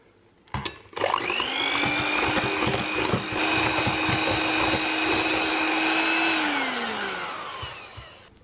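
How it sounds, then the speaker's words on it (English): Maple whipped cream frosting, keto style, whisked with an electric mixer: a loud steady motor whine with a constant pitch starts abruptly after a brief thump, runs about five seconds, then winds down and fades out. "So let's give that a whisk in."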